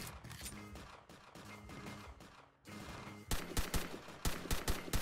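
Rapid gunfire in the video game Halunazi, bursts of loud automatic shots in quick succession that grow denser and punchier toward the end, with no talking.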